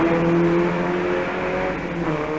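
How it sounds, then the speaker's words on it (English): A small Saab and a big Mercedes rally car race uphill, one overtaking the other, with steady loud engine drone and shifting revs throughout, no voices. "up the hill, the little Saab is overtaken by the big Mercedes"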